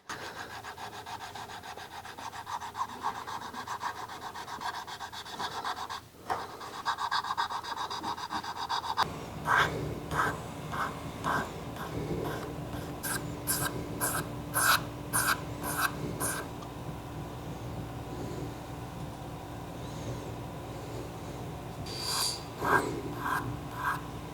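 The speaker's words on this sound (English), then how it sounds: "I'm gonna move from the belt grinder to hand files to do the last tiny little bit" Hand files shaping a steel chef knife blade, a close continuous scraping, then repeated rhythmic rasping strokes in short runs for most of the stretch.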